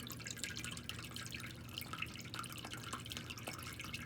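Storm water drips and leaks inside a building after heavy rain and thunder, giving quiet scattered droplet taps over a faint background hiss.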